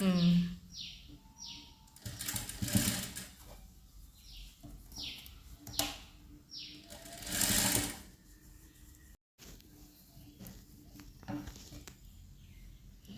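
A sewing machine stitches a government school uniform coat in short bursts of whirring that start and stop, with quiet gaps between runs and faint bird chirps in the background.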